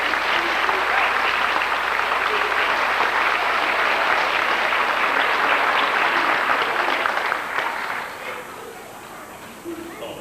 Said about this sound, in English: need a round of applause for their thanks too